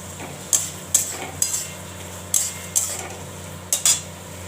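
Potol posto, pointed gourd in poppy seed paste, being stirred in a pan, with about seven sharp metallic scrapes and clinks of a utensil against the pan, spaced unevenly over a low steady background hum.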